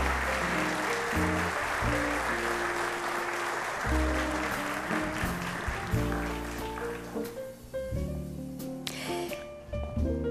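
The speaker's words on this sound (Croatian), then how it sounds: "Čestitke. Aplauz." Audience applause at a ceremonial session of the Rijeka City Council, a steady wash of clapping lasting throughout with music-like tonal sounds layered beneath, no speech.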